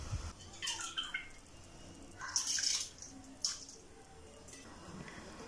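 Soaked rice being poured into water in a pot while cooking kabsa, a soft wet splashing and dribbling in a few brief bursts, fairly close and quiet, with no talking.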